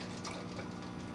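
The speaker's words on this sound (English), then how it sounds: "The water goes back and forth through the joint" Water gurgles and surges back and forth through a T-joint in a plastic airlift tube for a windowfarm, a steady close bubbling wash with no voices.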